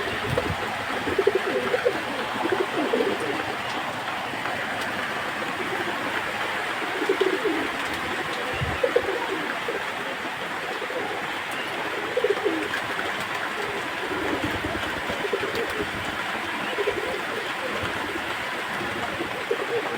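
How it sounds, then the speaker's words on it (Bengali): A large flock of pigeons feeding together on a rainy day fills the air with continuous overlapping coos and wing flutters, over a steady hiss of rain or running water. "দেখছেন একসাথে কত কবুতর খাচ্ছে, একটাতে 10-12টা করে খাচ্ছে।"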